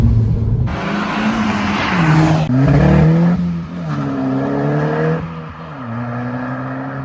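A loud 270 bhp Stage 2 Mk5 Golf GTI with a throaty modified exhaust revs and accelerates, pitch climbing through gear changes before easing off.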